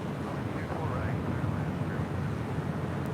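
A Qantas Airbus A380 arriving from Sydney lands on runway 24 right at Los Angeles International Airport, a broad steady jet roar with a low rumble, heard at a distance with a person speaking over it.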